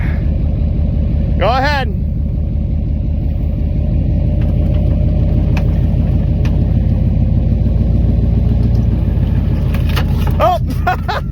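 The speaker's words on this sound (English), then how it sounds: "she's burning rubber right now" A Cadillac being converted into a NASCAR-style stock car burns rubber with its engine revving, a loud, continuous roar that stays close the whole time. A short spoken remark is briefly heard over the noise.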